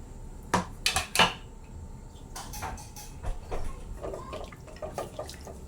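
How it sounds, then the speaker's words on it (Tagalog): Squeezed tamarind juice is poured into a cooking pot on a strong flame. A few sharp splashes and clinks come first, then a soft, faint trickle of liquid with light drips. "yung ating pinag-juice ng sampalok na piniga. Ayan, buhos na natin guys."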